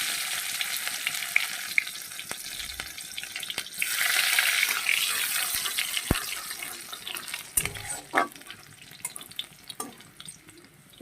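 Chopped garlic hits hot oil with a sudden burst of sizzling that fades into a softer crackle, broken up by sharp clicks and utensil knocks, with no voices.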